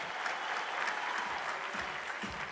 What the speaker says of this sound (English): Let's give a big round of applause to our mega production panel.